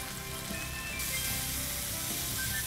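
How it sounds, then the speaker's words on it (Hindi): A pan sizzles steadily with wine, chopped tomatoes and bell peppers cooking in it, a continuous close frying hiss with no talking. "सिजल होना शुरू हो गया है पैन"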